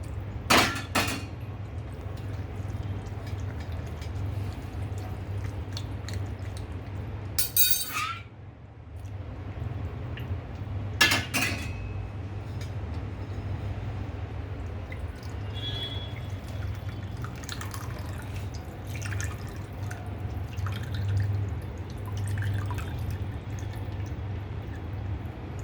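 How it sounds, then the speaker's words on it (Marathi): Freshly made paneer rinsed with chilled water poured over it, a steady trickle and drips with a few sharper splashes and clinks of a vessel, no talking. "इथे आपण आता चिल्ड वॉटर टाकतोय, म्हणजे चिल्ड पाणी, गार पाणी. आणि आपण ते पूर्ण धुवून घेतोय."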